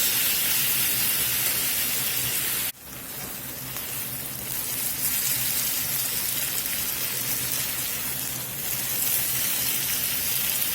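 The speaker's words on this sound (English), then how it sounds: "Been frying here for about 20 minutes" Squash sizzles and crackles steadily in a hot skillet, a dense hiss that briefly cuts out and then resumes at full strength.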